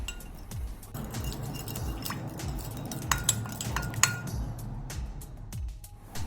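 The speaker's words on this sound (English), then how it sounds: "Let's give a good mix to all these ingredients until they come together nicely" Chicken chop marinade ingredients are mixed in a glass bowl with a spoon, giving repeated close clinks and scraping in an uneven rhythm, no voices.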